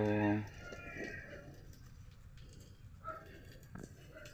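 Farm chickens give a loud crow-like call at the start, then scattered clucks under ongoing talk at a chicken sale.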